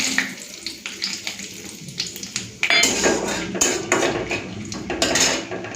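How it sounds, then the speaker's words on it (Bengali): Whole garam masala of cardamom, cloves, cinnamon, bay leaf and cumin seeds dropped into hot oil, crackling and sizzling steadily in a pan after a short stretch of clinking utensils, close and fairly loud. "তেলটা গরম করে নিয়েছি, এখন দিয়ে দিচ্ছি গোটা গরম মশলা।"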